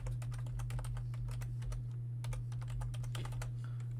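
Quiet bursts of computer keyboard typing, with quick irregular keystrokes close by over a steady low electrical hum and no speech.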